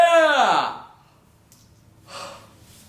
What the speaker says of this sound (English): That was a serious yawn.